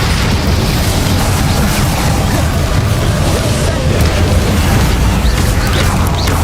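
Bombarda spell explosion in Hogwarts Legacy, loud dense rumbling blast noise that stays thick and steady throughout, with crackling debris and no clear separate strikes.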